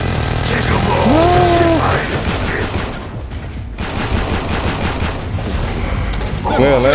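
Pistol fire in the video game Killing Floor 2 mixes with loud, dense game noise and wavering, groaning creature cries during a Halloween-themed match.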